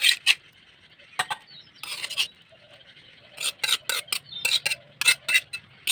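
A metal spatula scrapes chilli-boiled kul from a pot into a bowl in repeated short, rasping strokes, some bunched in quick bursts with brief quiet gaps between.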